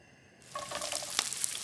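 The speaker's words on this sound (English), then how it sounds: "I've got some extra virgin olive oil in here, some red onions, and I'm going to put my currants in immediately because I want them to fry in the olive oil" Red onions and currants hit hot extra virgin olive oil in a pan, a sudden sizzle rising and settling into a steady close crackle with small pops, no talking.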